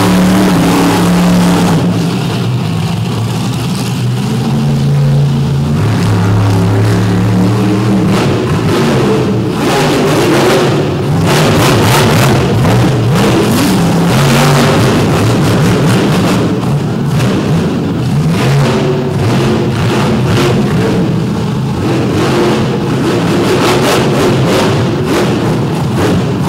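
A Ford race car engine roars loudly and continuously on track, revving up and down with rising and falling pitch, mixed with other cars and occasional thumps, no voices.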